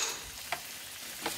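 Onions cook in a pan with a quiet, steady sizzle, punctuated by a couple of brief stirring scrapes.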